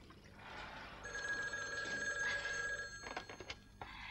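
A telephone bell rings insistently for a couple of seconds, loud and close, then breaks off into a few short clattering bursts, with no voices.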